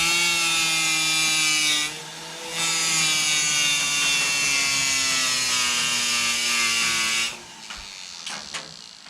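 A homemade deburring tool working a wood edge for woodcarving gives a loud, steady, strongly tonal whine that holds for several seconds, dips briefly once, then stops, leaving quieter scraping.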